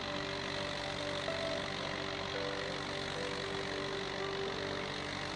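Old Ford tractor in Farming Simulator 25 running steadily at a constant engine note with faint tonal whine on top, a continuous moderate drone with no talking.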